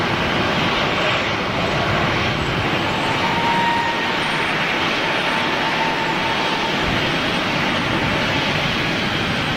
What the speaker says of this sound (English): the Air France 380 is a new one on us